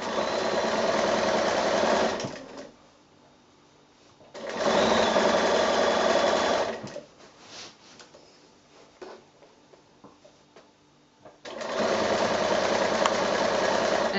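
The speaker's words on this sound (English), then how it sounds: "just stitch down close to the edge of the fold of the binding this time" A sewing machine stitches down quilt binding close to the fold, running in three steady bursts of close, fast motor whir with quiet pauses between them.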